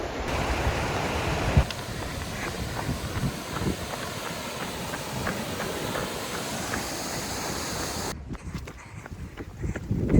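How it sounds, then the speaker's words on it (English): A steady rushing roar of a waterfall on a creek in Glacier National Park, constant and fairly close, with a brief knock early on and a quieter gap near the end. "nice waterfall."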